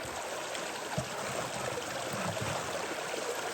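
Water rushes steadily through a gold dredge sluice box in a creek, a continuous close wash and gurgle with no voices.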